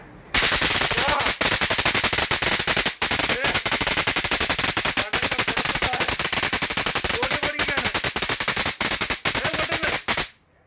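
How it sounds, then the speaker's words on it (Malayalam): An electric firecracker device pops in a dense, rapid machine-gun-like stream of loud cracks that runs almost continuously for about ten seconds, with a few brief pauses, close by. "ഇലക്ട്രിക് പടക്കമാണ്. ഇലക്ട്രിക് പടക്കം 2500 രൂപ."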